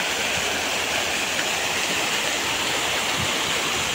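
A fountain sprays and splashes water in a dense, continuous rushing hiss, loud and close, with no voices.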